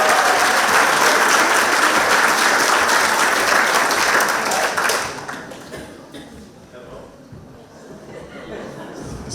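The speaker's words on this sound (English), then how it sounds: "Give him a round of applause" A crowd at a variety night show applauds a performer, loud, thick clapping for about five seconds that then thins into scattered claps and murmuring as the noise settles.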